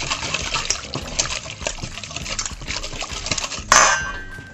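Olive oil mixture being stirred in a bowl, with a steady run of close, scraping and clinking utensil-against-dish sounds and a louder sharp clatter near the end; no one speaks.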